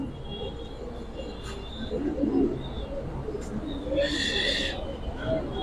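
Giribaz pigeons, large hens among them, coo softly in a loft, with low murmuring calls and occasional wing and chirp sounds over steady background noise; people talk nearby.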